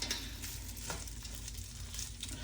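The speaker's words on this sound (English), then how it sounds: "let's just go ahead and toss that in the oil" Ingredients for Mexican-style green rice hit hot oil and fry with a steady, close, continuous sizzling hiss, with no voices.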